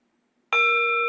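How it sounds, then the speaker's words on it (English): A meditation bell struck once after a short silence rings out loud and clear, its bright overtones sustaining with little decay to the end. "I'll go ahead and ring the bell"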